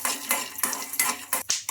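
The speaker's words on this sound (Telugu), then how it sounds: "ఇంకా అదే కడాయిలో ఇప్పుడు పల్లీలు కూడా ఫ్రై చేసుకోవాలి." Peanuts tossed in a kadai, with repeated metallic scraping and clinking of a stirring spoon against the pan in quick uneven strokes, close and clear with no talking.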